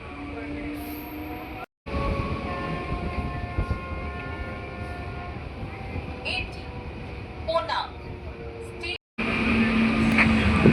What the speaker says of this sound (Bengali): আমাদের ট্রেন এসে পৌঁছালো কোনা স্টেশন